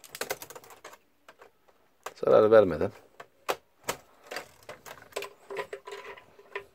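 A laptop keyboard is pried out of its plastic housing during an SSD installation, making sharp, scattered plastic clicks and snaps between stretches of close speech, with one denser burst of sound in the middle.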